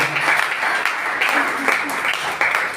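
A church congregation bursts into applause, dense clapping filling the space in short swelling waves with some voices underneath.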